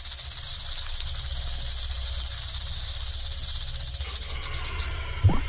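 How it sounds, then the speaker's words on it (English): A rattlesnake shakes its tail rattle, giving a loud, continuous buzzing hiss close by that holds steady for several seconds before breaking into stutters and fading. "The older the rattlesnake gets, the longer its rattle."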